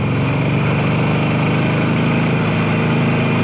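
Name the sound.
Harley-Davidson motorcycle engine running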